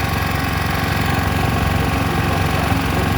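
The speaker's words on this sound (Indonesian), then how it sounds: "Ada motor belakang," A close motorcycle engine rumbles loudly and steadily at a street procession, a throbbing motor drone with a rough vibrating texture and no pauses.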